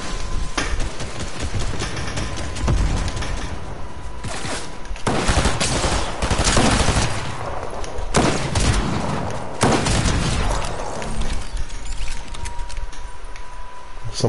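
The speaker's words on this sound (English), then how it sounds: "Definitely somebody else shooting." Rapid bursts of gunfire in a Fortnite match, with dense volleys of shots and occasional heavy thumps throughout, loud and continuous with brief pauses between flurries.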